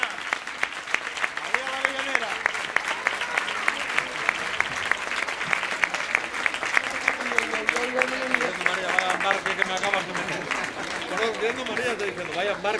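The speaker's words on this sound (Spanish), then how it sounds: "Un aplauso para María." A festival crowd at the Ascensión 2012 celebration applauds María la Platera with dense, continuous clapping that carries on for several seconds while voices speak over it.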